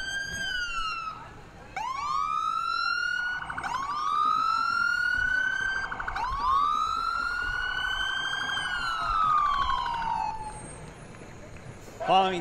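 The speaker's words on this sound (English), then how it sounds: "Followed by the Warner Engine Number 2." Siren of the Warner Volunteer Fire Department's Engine Number 2 passing in a parade, wailing up and down in repeated rising and falling sweeps, loud and close, then cutting off near the end.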